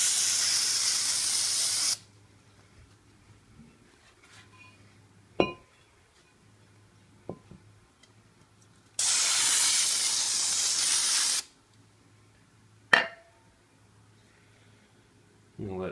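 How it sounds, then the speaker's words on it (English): Two long bursts of aerosol cleaner spray hiss close by onto a 2002-03 Acura TL Type S front brake rotor, separated by quiet stretches with a few sharp clinks and knocks and a low background hum. "spray this down."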